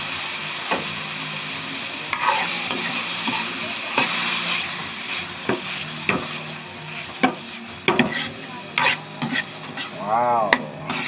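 Fresh shrimp sizzle and fry in a pan with a mixed seafood stir-fry, a continuous crackling hiss broken by sharp clicks and scrapes of stirring, close up, with no talk.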